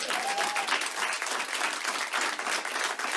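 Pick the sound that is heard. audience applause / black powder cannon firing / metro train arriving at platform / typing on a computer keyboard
audience applause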